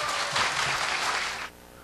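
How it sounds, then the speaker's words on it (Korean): Warm audience applause at a church mothers' prayer meeting greets a professor coming up to speak, a dense, steady clapping that holds for about a second and a half before quickly dying away. "이 시간 우리 권호승 교수님 여러분을 뜨거운 박수와 함께 모시도록 하겠습니다."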